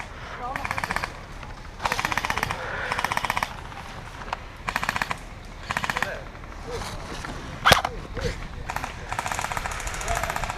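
Bursts of rapid airsoft gunfire rattle out in short strings during a woodland skirmish, close and sharp, with players' voices in between.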